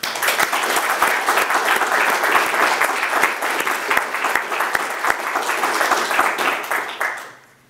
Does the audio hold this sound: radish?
no